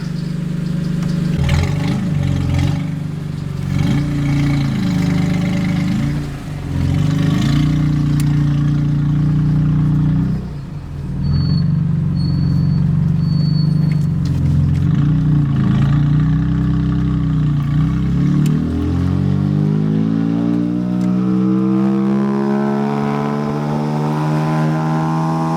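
A BMW M3 GTR race car engine revs loud and close, a deep droning roar that rises and dips through repeated throttle blips, then climbs in pitch as it accelerates and winds down.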